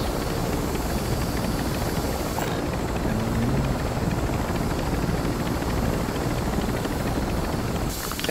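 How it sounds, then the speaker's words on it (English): A helicopter in the video game Warzone 3 roars continuously and loudly with a steady dense rotor and engine wash, dipping only briefly in the upper hiss, with no talking over it. "Get out of the chopper. Not in the chopper."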